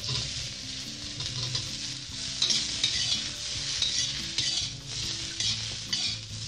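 Sponge gourd and edamame are stir-fried in a wok with no oil and no lid, giving a continuous close sizzle with rhythmic spatula scrapes and metal clinks throughout.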